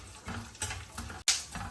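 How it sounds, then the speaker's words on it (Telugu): Urad dal and chana dal frying in oil in a pan, a soft steady sizzle with faint stirring scrapes and one brief louder crackle near the end, close and moderately quiet. "పప్పులు వేగుతున్నాయి కదా"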